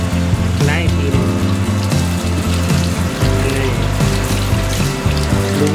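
Tap water runs steadily over fresh market ingredients for a crispy pork and blue crab papaya salad, a continuous loud splashing wash with a tonal hum and voices underneath.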